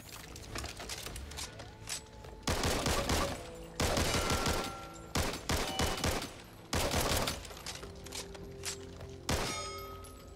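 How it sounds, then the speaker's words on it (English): Ranch Rifle semi-automatic shots, modeled on a Mini 14, fired in the game Back 4 Blood, coming as separate loud cracks and short clustered bursts with quieter gaps between them. "We have the Ranch Rifle, which I'm pretty sure this is based on the Mini 14."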